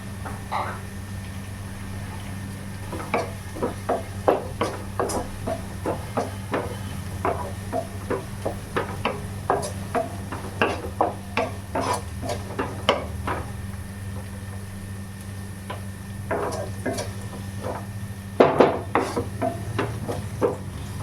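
Green chillies, garlic and onions sautéing in a pan for chicken curry, with a low steady sizzle under repeated sharp taps and scrapes of a spoon against the pan, close and fairly loud.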